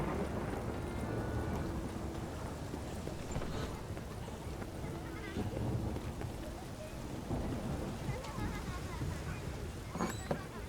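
Rain and thunder in a film scene: a steady wash of falling rain with low, rolling rumbles, fairly faint and continuous throughout, with no voices.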